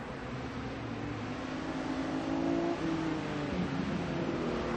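A 1967 Mustang big bore sedan races at a Lime Rock vintage event, its engine a continuous throaty roar holding a steady pitch before swelling slightly midway, with no one talking.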